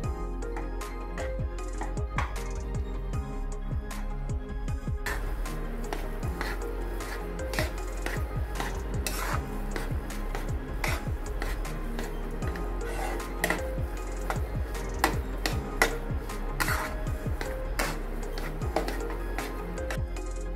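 Besan being roasted in a pan over a low gas flame for besan ladoo. A spatula scrapes and taps steadily against the pan with frequent light clinks, close and clear, and no one speaks.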